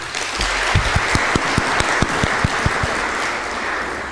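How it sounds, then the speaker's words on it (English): Crowd applause at a university career fair, loud and steady, with sharp individual claps standing out rhythmically above the general clapping. "Can we give ourselves a clap?"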